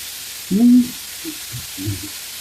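Fresh ground beef sizzles in a pan as a steady, close hiss, with a brief tonal squeak and a few soft clunks from the pan.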